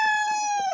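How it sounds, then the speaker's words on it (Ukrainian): A young Australorp rooster among backyard chickens gives a single drawn-out crow, a strong tonal call held nearly steady and dipping slightly at the end, close and clear. "Це підростаючий півник австралорп"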